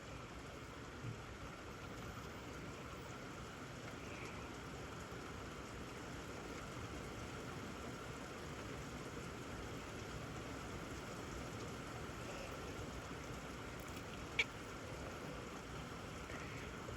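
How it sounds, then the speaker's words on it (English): Steady rain falls outdoors as a constant, even hiss of drops with low water rumble, unbroken across the whole stretch apart from one brief click near the end. "Rain"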